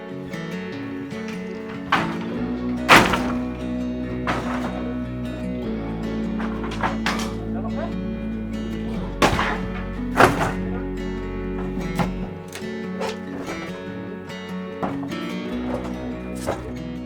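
A backyard shed being torn down by workers at a cheap house under renovation, with repeated heavy thuds and knocks at irregular intervals over a continuous low rumble, fairly loud and close, with no talk.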